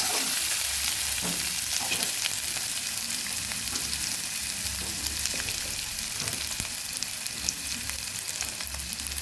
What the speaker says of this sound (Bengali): পেঁয়াজ আর আদাটা ভালোভাবে ভেজে নিচ্ছি।